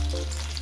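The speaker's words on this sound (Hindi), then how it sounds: "सभी मिर्चियों को अच्छी तरीके से पक जाने दीजिए।" Stuffed green chilies fry in hot oil in a pan for a bharwa mirch dish, giving a continuous close sizzle and crackle with no talking.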